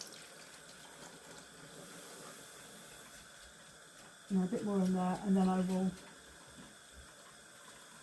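Tap water runs into a container for superwash wool dyeing, a loud gushing burst lasting about a second and a half midway, with a person talking quietly before and after.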